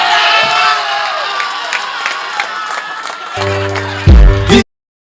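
A cricket crowd at a Byculla Premier League 2021 final roars, cheers and claps loudly and continuously after three back-to-back sixes, a dense sustained swell of voices with a brief louder burst near the end.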